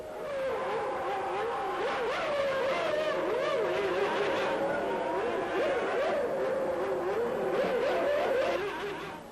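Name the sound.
Formula One racing cars at Silverstone, 1995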